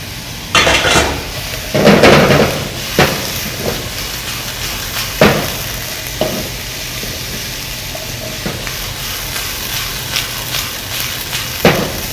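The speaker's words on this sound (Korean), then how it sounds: "그리고 나서 볶은 채소를 넣어요" Beef, vegetables and udon noodles hiss and sizzle in a hot pan, with intermittent sharp clanks and scrapes of a utensil against the metal as the food is tossed. No one speaks.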